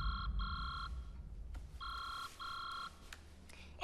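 A mobile phone rings from inside an alligator's stomach, faint and muffled, repeating electronic ring bursts in a steady pattern over a low rumbling background.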